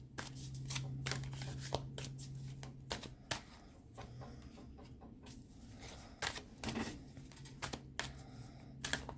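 Tarot cards shuffled by hand in a quick run of crisp riffling and slapping bursts, close and alone, with a steady low hum beneath.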